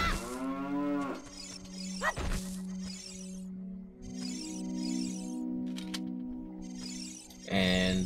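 A cow in a hidden cave area of the video game Zelda Ocarina of Time lets out one long, loud moo at the start, followed by steady game ambience with soft chiming tones.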